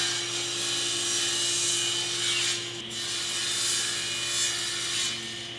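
A table saw runs steadily while cutting wooden shop-stool legs to length, giving a constant droning motor hum with a faint, rising and falling cutting sound through the blade; no one speaks.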